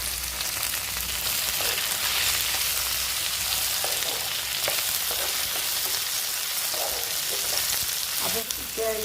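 Tomatoes and ginger fry in a pan for a paneer dish, giving a loud, dense, continuous sizzle with occasional soft scraping of stirring, close and steady.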